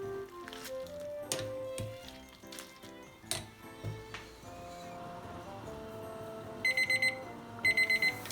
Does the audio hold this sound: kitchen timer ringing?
yes